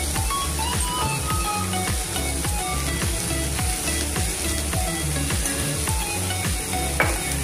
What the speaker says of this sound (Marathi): हे सगळं परतून घेऊया